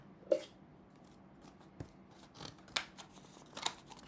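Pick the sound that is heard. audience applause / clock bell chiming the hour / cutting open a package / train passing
cutting open a package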